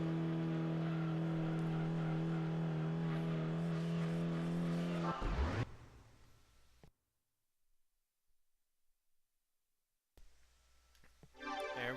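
A race car in Gran Turismo 2 during a license test holds a loud, steady engine tone, then cuts off abruptly into silence before faint engine and tire noise returns.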